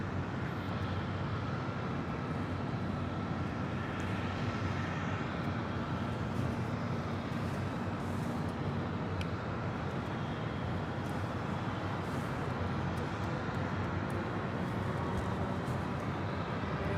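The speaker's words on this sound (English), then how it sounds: "FedEx Flight 1151 coming in from Fort Worth, Texas. It's a 767-300 freighter." A FedEx Boeing 767-300 freighter arrives at Los Angeles International Airport, its engines a steady broad roar that stays loud for the whole stretch without letting up.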